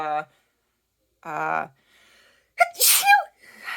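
A single sharp sneeze bursts out nearby, preceded by two short vocal sounds and separated by brief silences.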